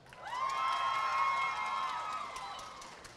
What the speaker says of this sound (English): by a round of applause, who's on the tea team?